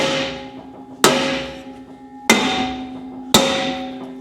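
Ball peen or dead blow hammer striking a rusted brake drum on its hub in an automotive shop: three loud, close metallic blows spaced about a second apart, each ringing and decaying, no talking.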